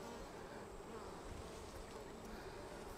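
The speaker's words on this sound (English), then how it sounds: "Let's get that bee out of the way." A honeybee buzzes steadily around a frame pulled from a Flow Super beehive, a continuous close insect drone over a broad, rushing background with no talking.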